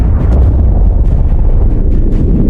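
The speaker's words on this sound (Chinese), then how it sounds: "在海底突然爆炸了。" A nuclear submarine explodes on the seabed as a film sound effect: a loud, deep, continuous rumbling roar that fills the whole moment without letting up, with no speech.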